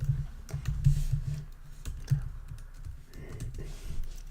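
Code being typed on a computer keyboard, a steady run of close, crisp key clicks with brief pauses and a faster flurry toward the end.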